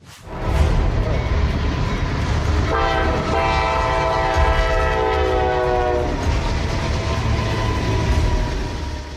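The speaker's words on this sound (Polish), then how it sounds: "Pociąg w ruchu z płonącymi wagonami, dramatyczny i niebezpieczny widok" Freight train rolling along the tracks with wagons on fire, a loud continuous rumble of rail cars with a sustained tonal horn or squeal through the middle, no voices.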